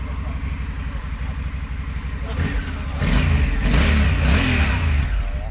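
An engine breathing through a slip-on exhaust idles with a steady rumble, then blips and revs in a few sharp, louder bursts; the sound is close, and voices talk over it.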